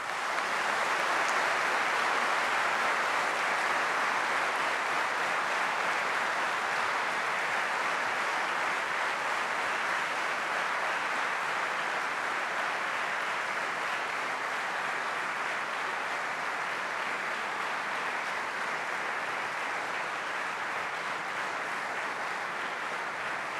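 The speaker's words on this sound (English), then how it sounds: "So you may now clap to your heart's content." Graduates and audience at the IIT Kanpur awards and honours convocation applauding at length, a broad, even wash of clapping from a large crowd heard from a distance, sustained without pause.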